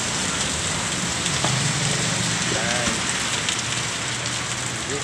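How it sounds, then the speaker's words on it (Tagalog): Steady rain falling and pattering on surfaces, an even, continuous hiss with scattered drops throughout, near and fairly loud. "Ulan kayo mga kaiko."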